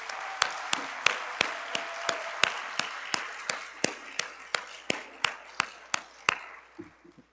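Conference audience applauding in a hall, a steady run of sharp, evenly spaced claps that repeat for several seconds and then fade out at the end.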